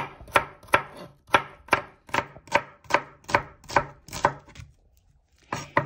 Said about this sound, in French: on coupe en rondelles les